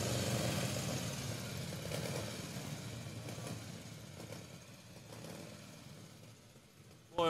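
A motorcycle engine idles steadily at a parade of classic vehicles at an elegance concours, a low continuous rumble with a crowd murmuring around it and a brief louder burst at the very end.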